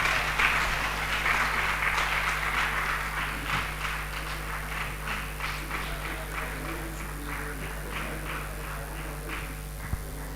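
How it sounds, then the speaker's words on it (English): Scattered audience clapping fills a hall during a union congress ceremony, a steady patter of many hands continuing at moderate level with faint background hum and no clear talk. "Please let's clap as the process goes on."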